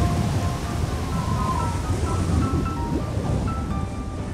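Cartoon rain pours down as a dense, steady hiss throughout, loud and continuous with no voices over it.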